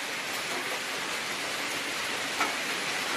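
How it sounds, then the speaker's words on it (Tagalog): Steady rain pours down in an even, hissing wash, with no voices and no change in intensity. "nagkusog ang ulan"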